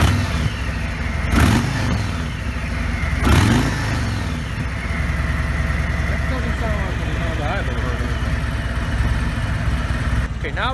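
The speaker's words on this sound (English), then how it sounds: "let me see if I can rev it for you so you can hear it." A 2017 Harley-Davidson Ultra Limited idles with a deep rumble from the rider's seat, then is revved in two sharp throttle blips before settling back to a steady idle, with a voice speaking over it.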